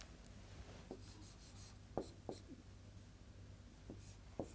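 Chalk or marker strokes on a classroom board as a physics work formula is written, a handful of short scratchy marks at irregular intervals over a low steady hum, fairly faint.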